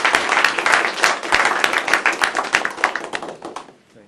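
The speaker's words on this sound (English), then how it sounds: "please join me in a round of applause for very insightful panel" An audience applauds a panel at a biofuels policy event, dense rapid clapping filling the room at close range before thinning and dying away at the end.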